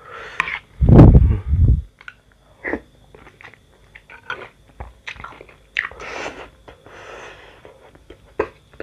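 Someone bites and chews bakso urat beef-tendon meatballs up close, with a loud crunchy bite at the start followed by irregular wet chewing and smacking sounds and a few quiet breaths.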